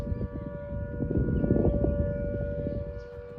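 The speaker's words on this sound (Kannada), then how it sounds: "ಏನೋ ಸೈರನ್ ಸೌಂಡ್ ಊರು." Civil defense style siren wailing steadily in a hill-town setting in Ooty, a sustained tonal drone over rumbling background noise, moderately loud and heard alone without talk.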